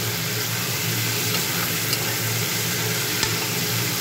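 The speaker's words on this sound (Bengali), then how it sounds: "স্বাদ মতো নুন চিনি দিয়ে দিলাম, ভালো করে কষিয়ে নিই" Diced potatoes stir-fried in a hot pan with salt and sugar for a Bengali white aloo chorchori, a steady close sizzle with light scraping of the spatula throughout.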